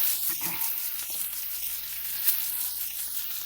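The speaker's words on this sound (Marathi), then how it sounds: "तर आता त्याच तव्यावर तापलेले आपण रश्श्यासाठी कांदा परतून घेऊया" Onion fries on a hot griddle over a wood-fired stove, giving a soft, steady sizzle with a few light scrapes of stirring.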